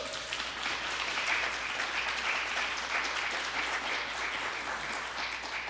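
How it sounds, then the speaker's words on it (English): Church audience applauding committee members, a steady, dense round of clapping that holds evenly for several seconds, moderately distant. "give them a round of applause"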